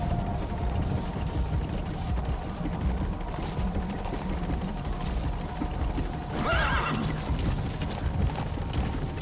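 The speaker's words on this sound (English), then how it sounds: "Nope, just a horse." A horse in Metal Gear Solid V: The Phantom Pain lets out a sharp neigh partway through, with hooves clip-clopping and mechanical game ambience rumbling steadily underneath.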